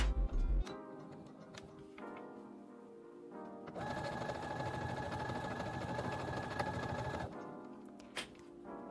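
A sewing machine stitches along the top of layered fabric for a scrunchie, a close, rapid mechanical whirr that runs for several seconds between quieter handling and ticking sounds, with no speech.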